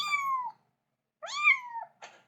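A small kitten meows twice, close and clear, with high drawn-out cries, followed by a brief third squeak.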